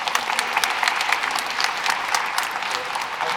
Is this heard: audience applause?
yes